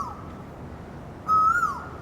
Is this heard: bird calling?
yes